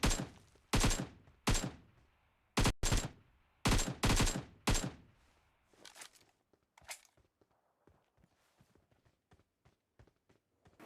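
Video game gunfire rings out in loud, sharp bursts, several close shots in quick clusters early on, then fainter scattered pops and clicks trailing off afterward.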